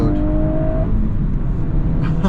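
Volkswagen Golf R driven hard on a twisting road gives a close, throaty cabin engine rumble that swells with acceleration, with a short whine early and faint tire noise toward the end.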